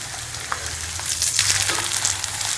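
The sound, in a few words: keema paratha frying in a pan, being turned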